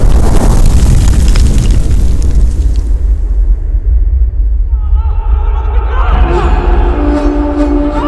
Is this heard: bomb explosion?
yes